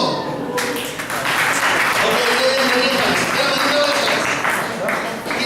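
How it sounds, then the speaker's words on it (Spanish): An audience at a motivational seminar breaks into loud, sustained applause after a countdown, with cheering voices mixed into the clapping throughout. "7, nada más. Un aplauso."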